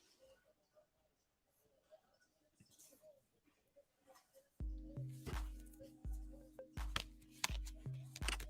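Tarot cards are shuffled for a live reading: faint soft handling at first, then steadier, denser riffling and tapping strokes, close but quiet.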